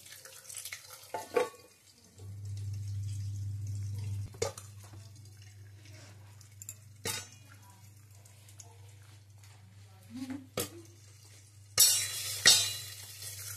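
Act II popcorn kernels popping in a pan, scattered sharp pops at irregular intervals that grow denser near the end, with a low steady hum partway through.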